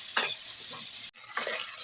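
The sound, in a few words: shrimp frying in a pan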